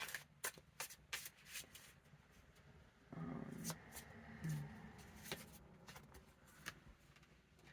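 Tarot cards are shuffled by hand close by, with riffling bursts and soft card slaps and taps, quiet and continuous, and no talking heard.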